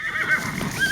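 A horse on a highway ride whinnies briefly and loudly up close, with faint hoof clip-clops under the call.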